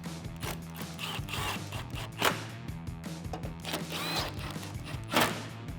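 Metal bolts being driven back through the top of a headlight mount on a 2016-2018 Chevrolet Silverado 1500, with close mechanical clicks and ratcheting rasps in a steady run and a couple of louder clanks.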